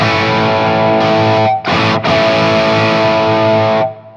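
Electric guitar through an Enhancifier analog psychoacoustic boost pedal with its level turned up: loud, thick, saturated chords ring on and sustain, with two brief dips before a final fade.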